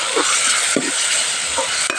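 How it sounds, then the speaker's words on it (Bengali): Chicken liver being stir-fried for kolija bhuna, a loud continuous close-up sizzle with a few quick scraping stirs of the spatula across the pan, no voices. "কলিজাগুলো ভালো করে এবার কষিয়ে"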